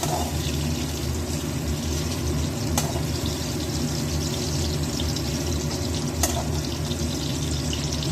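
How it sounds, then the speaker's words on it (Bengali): Tangra fish frying in well-heated oil, a loud, unbroken sizzling hiss that holds steady throughout, marked by two faint clicks and no talk. "এবার মাছগুলো ভাজতে কোনো অসুবিধা নেই, তেলটা ভালো গরম"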